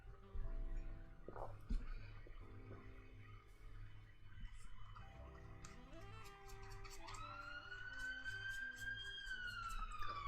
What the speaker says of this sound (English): we get lots of ambulances and sirens and stuff